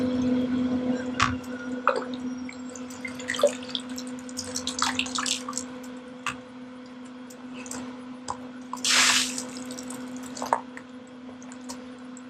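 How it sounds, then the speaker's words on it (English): Water flushes through a spin-down sediment filter on a homestead water line, a steady gurgling flow with splashes, drips and a brief louder gush, over a constant low mechanical hum. "we went ahead and flushed that spin filter"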